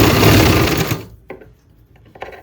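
A sewing machine runs in a quick burst stitching a hook-and-eye strip onto a blouse, loud and close, then stops, leaving a few faint clicks of handling.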